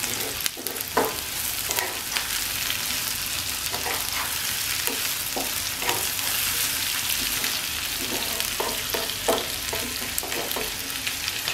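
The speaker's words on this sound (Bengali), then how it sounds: "ক্যাপসিকাম দেওয়ার পরে খুব বেশি ভাজবো না আমি" Vegetable noodles with capsicum frying over a medium flame, a loud continuous sizzle broken by repeated scraping and tossing strokes of a spatula in the pan, with nobody talking.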